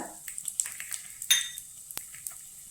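Lentils, urad dal, peanuts and cashews stirred in a pan over a low flame for lemon rice, with light scraping clicks and spoon taps against the pan above a faint sizzle.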